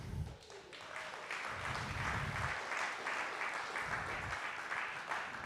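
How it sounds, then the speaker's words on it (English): Steady applause from a crowd at an open mic night, a dense patter of clapping that holds throughout at moderate loudness, with low rumbles of movement underneath. "That was a good round of applause, though."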